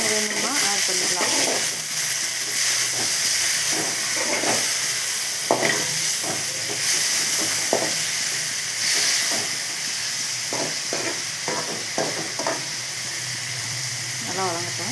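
Onion and tomato sauté in a hot pan with a steady, close hiss and sizzle that runs throughout, while someone talks over the cooking between occasional stirring scrapes.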